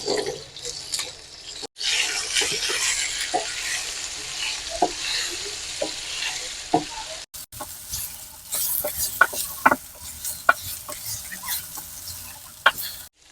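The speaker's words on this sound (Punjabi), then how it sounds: "ਇਹਦੇ ਵਿੱਚ ਆਪਾਂ ਪਾਵਾਂਗੇ ਪਹਿਲਾਂ ਔਲੇ ਇਹਨਾਂ ਨੂੰ ਥੋੜਾ ਜਿਹਾ ਫਰਾਈ ਕਰਨਾ" Amla and ginger frying in hot oil with crackled mustard seeds and cumin for a pickle, with a continuous bubbling sizzle, scattered sharp pops and spatters, and intermittent stirring close by.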